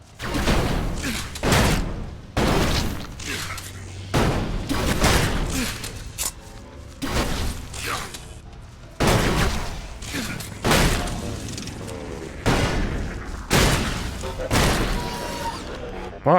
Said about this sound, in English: pull out the shotgun.